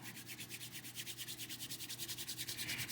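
A pair of hands rubbing together briskly, a steady rhythmic swishing friction repeating about eight times a second, close and alone for the whole stretch.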